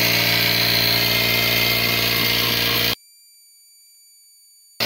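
A QSMSJASMINE portable electric tire inflator air compressor runs with a steady, close mechanical drone and whine for about three seconds, then cuts off abruptly into near silence.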